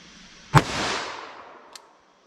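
A single sharp shot from a 4 1/4-inch Smith & Wesson Model 69 .44 Magnum revolver fired outdoors, a close crack followed by a short decaying echo and a faint distant click afterward.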